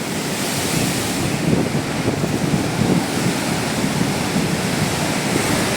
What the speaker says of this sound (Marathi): लाटा याच्यावर जोरात धडकत आहेत